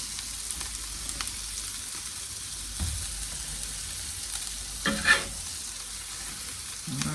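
A meat patty for a junkyard dog burger frying in a pan, a constant soft sizzle with occasional louder crackles and the scrape of turning, close and steady with no voices.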